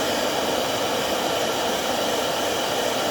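A heat tool blows a loud, steady stream of hot air onto heat-reactive cards at close range, an unbroken whooshing roar.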